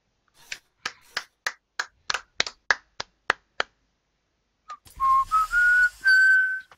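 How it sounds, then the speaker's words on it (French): In the Portal 2 co-op game, a run of about ten sharp, evenly spaced snaps or clicks gives way to a clear whistled phrase of rising and held notes, loud and close, with no talking. "siffler c'est pas une bonne idée par contre"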